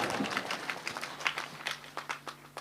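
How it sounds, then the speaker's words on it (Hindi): Audience at a mushaira poetry gathering clapping to welcome the poets: a fairly quiet, continuous patter of many hands, with somewhat uneven individual claps standing out now and then. "आप जोरदार तालियों से इनका इस्तकबाल करें"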